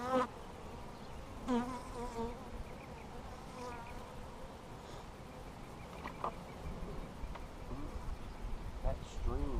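Honey bees buzz steadily around an open hive in a bee yard, a close, constant droning hum with occasional louder passes near the mic, while a person talks over it.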